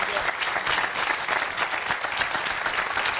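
Theatre audience applauding after a vertical dance show, a dense, steady wash of many hands clapping at full volume with no voices standing out.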